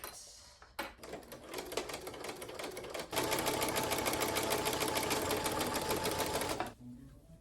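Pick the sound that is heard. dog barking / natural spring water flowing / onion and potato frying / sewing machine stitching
sewing machine stitching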